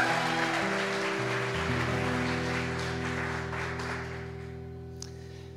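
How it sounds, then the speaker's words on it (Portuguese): A church congregation applauds in praise of Jesus, a sustained wash of many hands clapping over held organ or keyboard chords, gradually fading toward the end. "Give him a round of applause."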